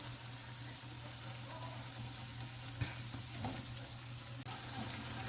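Tofu coated in flour frying in oil in a pot, a steady close sizzle with constant crackle, a low hum underneath, and a few small pops and clacks scattered throughout.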